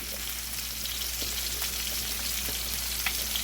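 Red beans cooking in a pot, heard as a steady, even bubbling sizzle with faint scattered pops, close up and continuous with no one talking.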